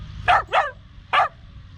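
A dog barks near a truck hauling a Cat 309 excavator: three sharp, close barks, two in quick succession and then one more after a short pause, over a low engine rumble.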